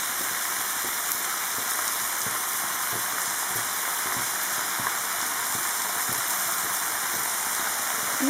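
Spinach sizzles steadily in a pan, a constant bright frying hiss with occasional soft scraping from stirring, close and alone without talk.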